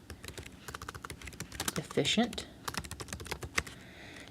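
Rapid keystrokes clatter on a computer keyboard while entering text into a Word table, a dense irregular run of close clicks with a louder burst midway, and a person briefly speaks over it.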